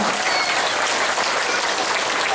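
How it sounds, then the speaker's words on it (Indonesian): A crowd at an Indonesian political campaign gathering applauds a named guest, a steady, dense roar of clapping that stays even and unbroken for its short length. "Tepuk tangan untuk Habib Banua"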